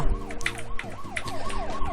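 A wailing police car siren from a flash video game, synthetic rising-and-falling sweeps repeating quickly and loud in the foreground with no talk.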